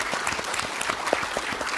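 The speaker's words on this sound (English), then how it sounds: "I think that needs an applause." An audience at a Summer Davos forum panel in Tianjin applauds, a dense burst of many hands clapping with sharp overlapping claps, steady and moderately loud.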